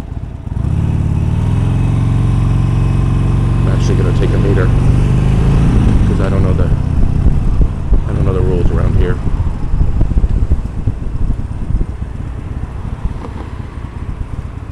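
A Harley-Davidson motorcycle rides along Sunset Boulevard in Los Angeles, its loud steady engine rumble and wind roar filling the whole stretch, with a few brief rises in revs partway through and a voice talking faintly over it.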